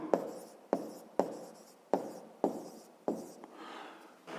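Pen strokes on paper during a fifth-grade maths exercise, six sharp scratchy onsets about half a second apart, each trailing off in a brief rubbing scrawl, close and quiet with no talk.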